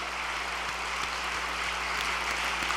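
A crowd at a church convention opening ceremony applauds continuously, a dense wash of clapping that holds steady throughout, with no voices over it.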